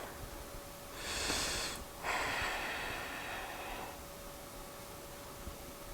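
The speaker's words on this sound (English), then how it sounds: "Coming back to the Ujjayi breath." Two slow, hissing yoga breaths with a soft oceanic rasp, a long inhale followed by a longer exhale, close and quiet against a still room.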